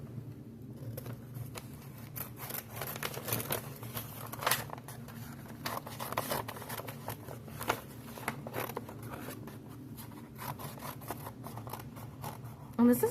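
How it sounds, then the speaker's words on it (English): Scissors cut a shape out of a paper bag, giving quiet, close snips and crinkly paper rustles in an irregular rhythm, faint and steady, with no talking. "I'm going to cut like a big shape around this first to make it easier to cut the details."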